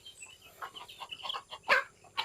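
Farm chickens in a rural backyard clucking at feeding time, a few short bursts of clucks close by, rising to a louder squawk near the end.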